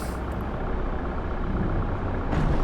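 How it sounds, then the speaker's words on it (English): In a bus-driving video game, a bus squeezes through traffic and scrapes past a car, heard as a loud, continuous grinding rumble with broadband noise that swells slightly toward the end. "You might hear some scraping right now."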